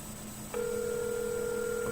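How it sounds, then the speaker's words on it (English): A steady telephone tone begins after a short pause and holds continuously, heard over a faint background hiss, as a phone call rings out. "Okay, see, we got the phone up. His phone is ringing."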